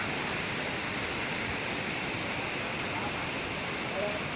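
Water pours steadily down Krathing waterfall in Chanthaburi, a dense, unbroken rush of broadband noise that stays even and loud throughout, with no pauses.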